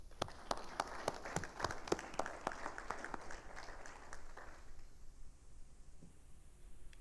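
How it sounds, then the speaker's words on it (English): Applause breaks out at a community college board of trustees meeting, a brisk patter of many hands in a moderately sized room that thins and fades out after about five seconds, leaving quiet room tone. "We should applaud her."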